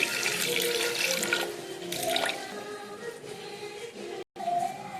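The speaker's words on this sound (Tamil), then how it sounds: "தண்ணி ஊற்றி" Water runs steadily from a tap into a pot for cooking dal rice, a continuous splashing pour that cuts off briefly near the end before resuming.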